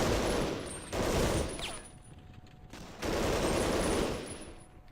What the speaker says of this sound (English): Might be shot with a machine gun.